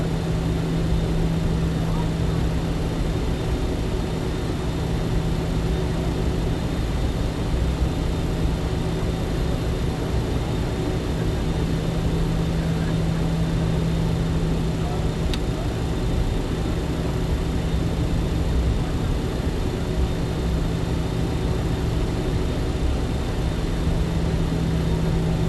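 A simulated aircraft climbs out after takeoff in Microsoft Flight Simulator 2020. It is a steady, unbroken engine drone with a constant low hum, moderately loud and unchanging for the whole stretch.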